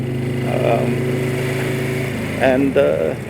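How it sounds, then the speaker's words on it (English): Running engine of an SE120R motorcycle with stock muffler cans, a steady low hum heard under continuous talking. "I kept the stock muffler cans on there because I like the way they sound on the Limited"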